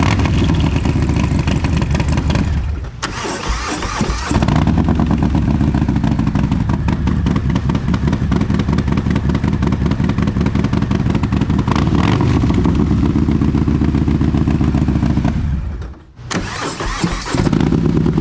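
A Harley-Davidson Milwaukee-Eight Softail fitted with a Blockhead 2-1 exhaust starts and runs loud and close, a deep throbbing idle broken by a couple of sharp pauses and restarts, with no talking.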